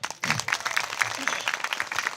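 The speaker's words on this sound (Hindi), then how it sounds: "ताली बजाइए" Church audience claps together, a brief burst of fairly loud, evenly spaced rhythmic claps lasting about two seconds with some voices underneath.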